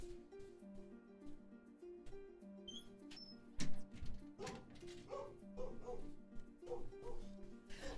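A dog barks suddenly and close behind in a room, a loud sharp bark or two followed by yips and whimpering sounds, over a video game's music.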